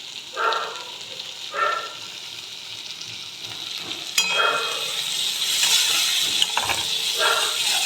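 Sliced capsicum is added to fried onions in a pan and sautéed, with a few scraping stirs, then a steady sizzle and hiss that swells as the cooking goes on, close up, with no talk.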